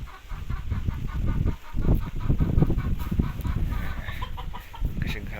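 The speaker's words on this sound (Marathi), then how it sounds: "कसे घरात कोंबडी पण आहेत बघा." Chickens clucking around a home yard with mango trees, a steady low fowl chatter running throughout at moderate loudness amid outdoor background noise.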